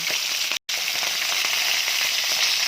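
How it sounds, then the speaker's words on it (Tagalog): Steady crackling sizzle of sapsap (ponyfish) frying in hot oil, close and continuous, with a brief dropout near the start. "dito sa kabila, nagpiprito ako ng sapsap"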